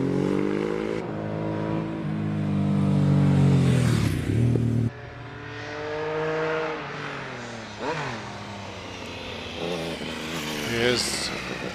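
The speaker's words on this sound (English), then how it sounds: "Matthew Margaridge on the big Suzuki, rounds a Torres. Lovely twin pipes sticking out at the back" A big Suzuki road-racing motorcycle with twin exhaust pipes at a hillclimb, its engine revving hard and rising in pitch, then dropping away and building again through gear changes, loud and close, with a commentator speaking over it.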